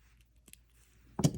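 Jewelry wire being snipped off while wire wrapping a handmade earring, heard as one sharp close cut near the end after a few faint small clicks.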